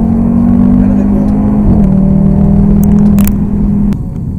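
Audi TT RS Plus, 360 hp, accelerating in sport mode: a steady, loud engine drone that holds and rises slightly, then eases off near the end.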